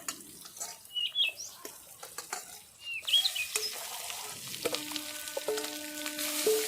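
Mashed boiled potato filling for Bengali singara fries in a pan, starting as sparse crackles and scrapes and swelling into a denser, louder sizzle midway, with faint bird-like chirps and tonal squeaks in the background.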